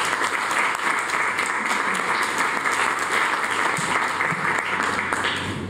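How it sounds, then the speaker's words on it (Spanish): An audience at a book presentation for a law book on inheritance claps steadily and warmly, with sustained applause filling the room throughout. "Un aplauso, por favor."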